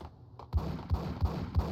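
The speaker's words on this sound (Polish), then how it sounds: "O, jakieś strzały." Four muffled, evenly spaced gunshots in the video game Max Payne thud in quick succession after a brief quiet start, each a low, punchy burst.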